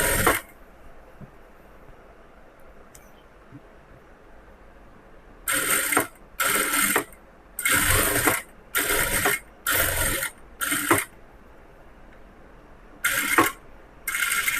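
A sewing machine stitching a blouse, running in a series of short bursts of fast clattering, about ten separate runs with quiet pauses between them.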